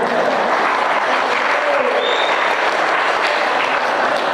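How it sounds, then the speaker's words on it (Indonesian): Audience applause at a religious lecture, a broad steady wash of clapping that holds loud and even throughout with no pauses. "tepuk tangan nggak apa-apa"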